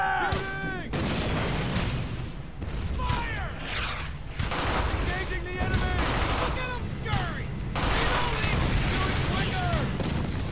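Brothers In Arms: Hell's Highway gunfire during a World War II firefight, with loud, near bursts of rifle and machine-gun shots in rapid, overlapping volleys, whizzing bullets and shouted voices mixed in.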